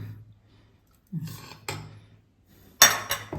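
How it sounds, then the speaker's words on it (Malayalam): A spoon adds wheat into a jar while making gooseberry wine, producing a few sharp metallic clinks and taps against the container in a quiet room, with no talk. "ഇനി നമുക്ക് ഒരു സ്പൂൺ ഗോതമ്പും കൂടെ ഇട്ട് കൊടുക്കാം"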